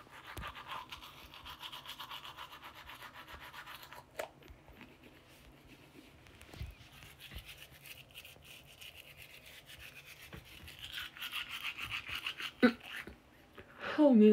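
A toothbrush scrubs steadily at close range in a fast, rasping back-and-forth rhythm that runs for a long stretch, with a few louder knocks and light voices near the end.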